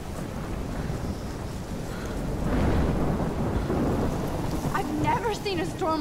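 A thunderstorm with heavy rain in the video game Life Is Strange, a steady loud wash of rain and wind with rumbling thunder swelling midway, plus some faint tonal game sounds near the end.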